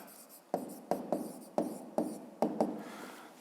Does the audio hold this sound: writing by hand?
yes